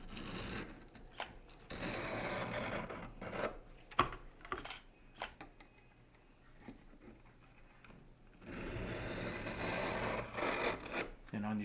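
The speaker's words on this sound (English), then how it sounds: "on these coarse stones, you can really bear down hard" A Ka-Bar knife is worked hard across a coarse sharpening stone, giving repeated rasping strokes in bursts, loudest at the start and end, with quieter scraping between.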